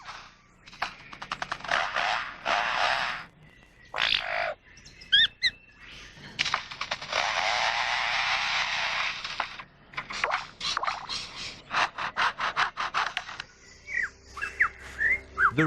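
A lyrebird mimicking a chainsaw: bursts of buzzing, revving noise broken by clicks, chirps and squawks, fairly close and uneven.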